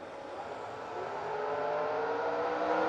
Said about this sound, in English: This little Monza leaves out